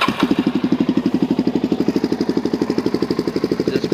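Suzuki DRZ400SM supermoto, a 2009 model with its stock exhaust modified to be louder, idles close by with a steady, even pulsing thump and no other sound.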